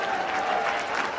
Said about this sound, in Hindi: उनके लिए एक बार जोरदार तालियां